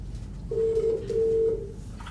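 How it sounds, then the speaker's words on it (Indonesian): An electronic telephone ring sounds as two short, steady tones separated by a brief gap, moderately loud over a low background hum. "Ada telepon. Coba angkat deh, siapa tahu penting."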